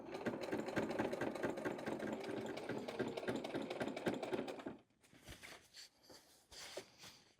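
Sewing machine stitching a bag at steady speed, a rapid continuous rattling hum for several seconds before it stops, followed by faint handling and fabric rustles up close.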